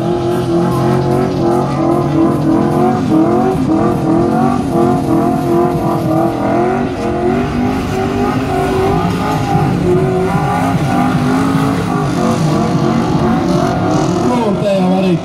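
Drift cars compete at a Latvian drift cup round in Jelgava, with engines revving hard and tires squealing in a continuous loud roar while a commentator talks over the action.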